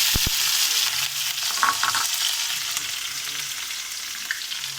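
Urad dal, onion and green chili fry in hot oil with cumin, giving a steady close sizzle and crackle that holds through the whole stretch, with a few faint stirring taps.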